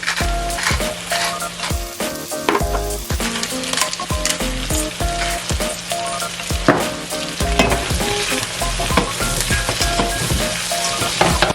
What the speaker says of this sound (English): be careful to not break the potatoes, you just want to stir it in nice and gently